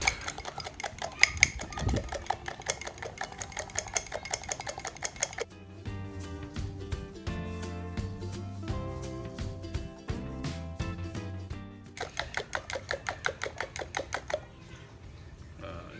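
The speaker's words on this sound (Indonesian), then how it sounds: "pakai pengocok telur kayak gini aja nih. Sampai dia mengembang," A hand egg beater whips eggs until fluffy for Minangkabau egg tea, making fast, rhythmic mechanical clattering close by. A stretch of music interrupts the whisking partway through before the rapid beating returns.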